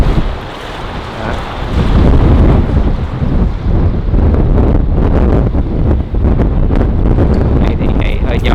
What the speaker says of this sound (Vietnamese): Này thì ngày hơi gió.